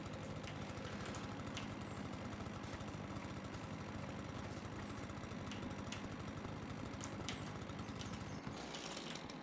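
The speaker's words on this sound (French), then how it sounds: "On peut prendre notre tondeuse." Lawn mower engine in the landscaping game Paysagiste Simulator, a steady mid-pitched motor drone running continuously and fairly close, with faint clicks and rattles over it and no talking.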